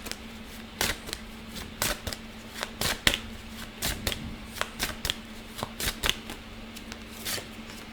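Tarot cards being shuffled by hand, a run of quick crisp riffling bursts and soft slaps in an uneven rhythm, close and clear over a faint steady hum, with no talking.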